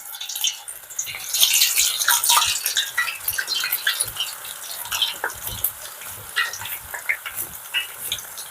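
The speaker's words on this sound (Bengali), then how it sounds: "গ্রেটারের ওপর আলুটা দিয়ে ঠিক এরকম ভাবে গ্রেট করে নিতে হবে আর সরাসরি তেলে দিয়ে দিতে হবে" Raw grated potato goes straight into hot oil for white potato chips and fries with a steady, close crackling sizzle. The bright spitting pops keep coming throughout.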